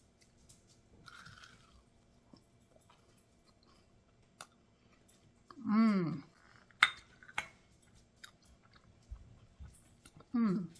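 Chewing on homemade Rice Krispies treats topped with dark chocolate: soft, close crunching bites with a few short clinks, and brief hummed murmurs of approval between mouthfuls.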